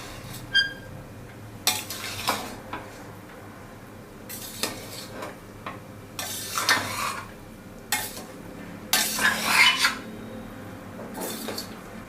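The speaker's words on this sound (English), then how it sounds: "So I'm just going to give it a light mix." Cooked tomato rice is lightly stirred inside an opened pressure cooker, several separate bursts of soft scraping and metal clinks with quiet gaps between strokes.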